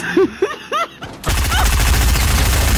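Rapid automatic gunfire in the video game Fortnite erupts after a burst of loud laughter, a dense, close, continuous rattle of shots that fills the rest of the moment.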